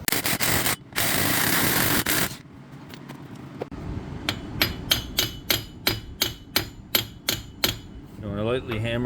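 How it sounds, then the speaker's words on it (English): Metallic hammer strikes on a car wheel hub ring out one after another at a steady rhythm, about a dozen sharp blows, after a burst of loud rustling and scraping. "You want to lightly hammer that so that you can then push it freely"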